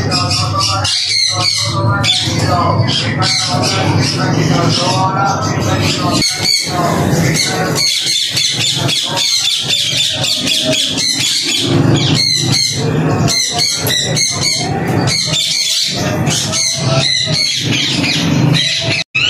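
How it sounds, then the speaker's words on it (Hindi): Macaw parrot squawking at a Sunday bird market in Bahawalpur, harsh loud calls repeating throughout amid constant market bustle and people talking nearby. "ये मकाओ का पीस है, 1 साल का दाना।"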